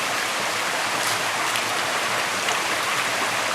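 Running water washes sand down a gold prospecting sluice flue, a steady close hiss and splash without pause or voices.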